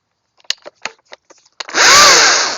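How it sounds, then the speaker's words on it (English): An electric chainsaw clicks and taps a few times, then whirs up into a loud, steady high-pitched whine with no engine noise, close and sustained to the end. "you can see a little bit quieter, no engine noise on it, and there's plenty of power in this chainsaw."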